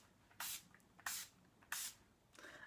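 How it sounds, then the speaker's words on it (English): Makeup setting spray is spritzed toward the face in three short, crisp hissing bursts at even intervals, with a fourth softer one trailing off at the end, quiet and close with no talking. "hold 8 to 10 inches away from the face, and spritz 2 to 4 times in an X and T formation"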